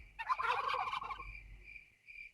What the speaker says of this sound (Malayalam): ടർക്കി കുഞ്ഞ്